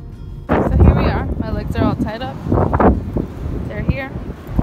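Strong wind buffets the microphone in low rumbling gusts while people talk over it outdoors on a beach.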